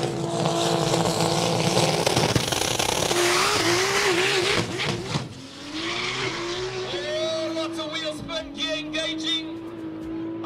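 A 1,600-horsepower Toyota Supra no-prep drag car launches loudly and close by, its engine note climbing and wavering through the run with tire noise, while crowd chatter and voices carry underneath.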